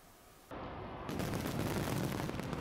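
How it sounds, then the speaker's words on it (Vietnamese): New Year 2024 fireworks burst over the Chao Phraya River in Bangkok, building from a distant rumble into a dense, continuous barrage of booms and crackles that grows louder and stays heavy to the end. "Thái Lan đón năm 2024 với màn bắn pháo hoa kéo dài 12 phút, trải dài trên một phần sông Chao Phraya ở thủ đô Bangkok"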